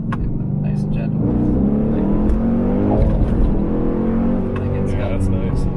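A cammed Dodge Challenger R/T engine pulls hard through second gear with a deep, loud, steady roar from inside the car, while people talk over it.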